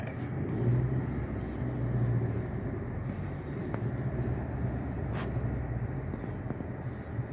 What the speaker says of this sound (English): All right, here we go. Test drive.